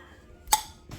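Metal lid on a jar of home-canned strawberry jam popping as it seals, a single sharp close click amid quiet room tone, followed by a softer faint knock.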